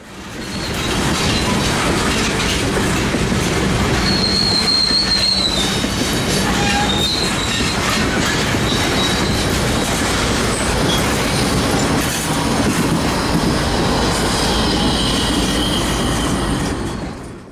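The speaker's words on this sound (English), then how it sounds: "The train pounded across the diamond before coming to a stop to wait for clearance onto the Austin Subdivision." Union Pacific freight train led by SD70MAC locomotives on the Austin Subdivision, pounding across a rail diamond nearby: a loud, steady roar of wheels and rumbling cars with squealing flange screeches and clattering joints, no voices.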